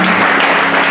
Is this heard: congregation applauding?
yes